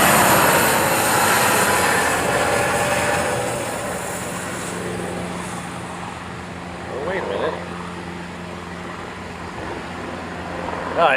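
A large military cargo jet, either a C-17 or a C-5, is heard from the ground at an airport. A loud, broad engine roar with a whining tone slowly fades as the jet passes, and brief chatter can be heard near the end.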